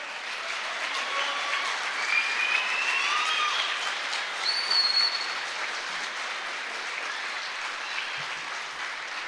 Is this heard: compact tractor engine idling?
no